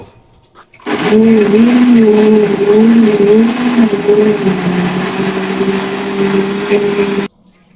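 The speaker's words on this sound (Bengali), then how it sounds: "দিয়ে দেওয়ার পরে এখন আমি এই যে এখানে এখন ব্লেন্ডার করে নিব" An electric blender grinds onion, garlic and ginger with water, a loud steady whirring drone with slight pitch wobbles as the blades chew through the mix, starting abruptly, running about six seconds, then cutting off.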